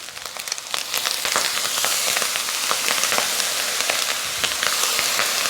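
Fried rice sizzles and crackles loudly in a hot pan just after soy sauce goes in, a dense, continuous hiss with scattered sharp pops and faint stirring scrapes.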